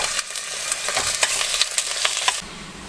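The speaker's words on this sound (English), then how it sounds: "So fry up some pork" Pork fries in a pan while camping in a U-Haul at minus 35 degrees, giving a steady close sizzle with quick crackles and pops that cut off abruptly near the end.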